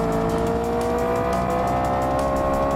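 A super car in the driving game BeamNG.drive revs hard in second gear while cornering, its engine roaring loud and steady throughout with tire squeal mixed in, no voices.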